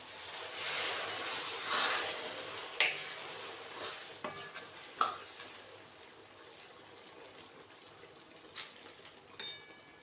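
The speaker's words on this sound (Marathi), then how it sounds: "गरम पाणी टाकून घेऊ त्याच्यात" Hot water goes into a pan of frying dried fish (sukat), bringing brief bursts of sizzling hiss along with scattered metallic clinks and scrapes of utensils against the pan, fairly close and moderately loud, with no voices.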